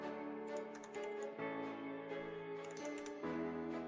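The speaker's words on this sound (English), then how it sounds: "you are going to type your email account" Steady, rapid typing on a computer keyboard continues throughout at close range, with crisp key clicks and slight pauses between bursts.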